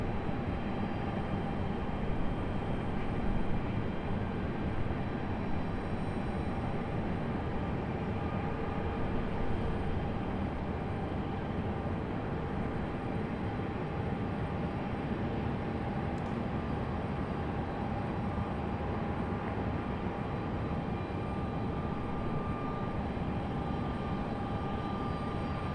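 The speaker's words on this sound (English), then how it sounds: "I think this is one of our Cessna Grand Caravans coming in for UPS." Cessna Grand Caravan turboprop landing for UPS at Raleigh-Durham International Airport, a steady distant engine drone with a faint whine, unbroken and even throughout.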